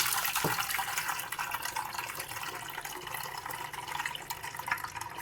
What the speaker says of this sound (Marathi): आता मी हे जे पाणी आहे ते एक चाळणीमध्ये काढून घेणार.